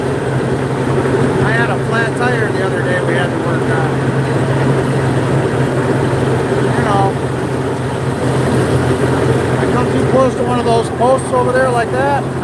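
Tractor engine running steadily while mowing a back field, a constant droning hum with low tonal rumble throughout, under someone talking at close range.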